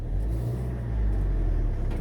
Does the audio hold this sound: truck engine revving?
yes